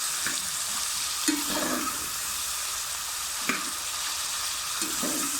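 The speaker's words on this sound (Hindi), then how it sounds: "जैसे ही हमारा ऑयल गर्म हुआ हमने इसके अंदर चिकन डाल दिया है" Steady loud sizzling of chicken frying in hot oil, with occasional soft knocks and stirring scrapes, close up and continuous.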